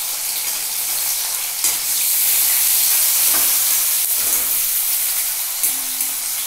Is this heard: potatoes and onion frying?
yes